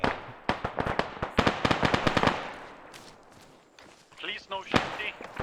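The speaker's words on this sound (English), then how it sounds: "Please no shooting." Rapid gunfire in Arma 3, a burst of sharp cracking shots in quick succession, then quieter scattered reports and distant pops, with voices talking over part of it.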